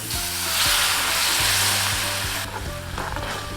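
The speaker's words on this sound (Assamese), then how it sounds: "বিলাহীখিনি অকণমান ফ্ৰাই কৰি ল'ম" Tomatoes fry in a hot pan with a loud, close, continuous hiss and crackle that swells and eases over a few seconds, with light stirring clatter and no voices.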